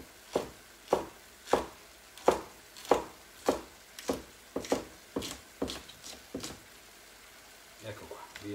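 A knife chops basil leaves and a chili pepper steadily on a cutting board, about a dozen sharp, evenly spaced strikes close by, then the chopping stops.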